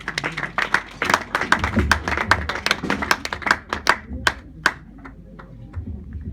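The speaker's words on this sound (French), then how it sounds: "On acclame pour le Seigneur." A church congregation claps together in praise of the Lord, loud sharp hand claps in a fast uneven burst that thins out toward the end, with a low murmur of voices beneath.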